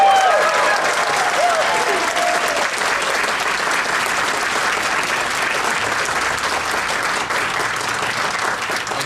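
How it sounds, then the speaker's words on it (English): Loud, sustained applause with cheering from an audience at a Toastmasters district evaluation contest, a dense continuous roar of clapping filling the whole stretch. "And an applaud and a cheer."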